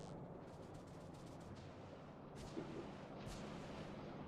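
Turrets firing in a video game, a steady low rumble of repeated booms and gunfire held at a fairly faint, even level, with a few sharper bursts.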